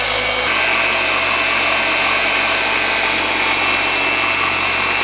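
Machine polisher running at low speed, spreading polishing compound over the paint of a Tesla: a loud, continuous, steady motor whir with broadband buzz, close by and with no talk.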